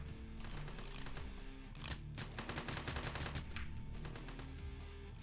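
Rapid automatic gunfire from the video game One Armed Robber, a steady dense rattle of shots with sharp bursts layered over game music, loud and continuous.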